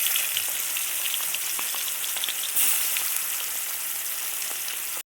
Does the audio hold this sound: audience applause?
no